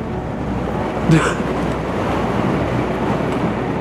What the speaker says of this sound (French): Et le vent vient de la terre